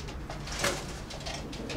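Pigeons cooing in a large pigeon loft, soft overlapping coos over a steady bed of flock noise and rustling, moderately close and continuous, with no talk.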